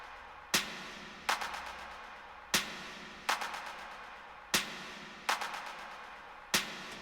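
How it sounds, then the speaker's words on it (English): Clap sound effect layered with a shaker for an Afro house track: six sharp claps at a steady rhythm, each followed by a short rattling shaker tail and a decaying reverb wash, alone with no voices. "It's claps and a shaker,"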